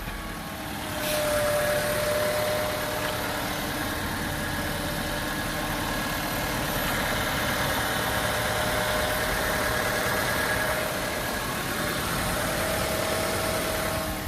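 A 1998 Honda Civic engine idles smoothly and quietly right after a fresh startup on AMSOIL oil, a steady close-miked hum with a faint high whine running throughout.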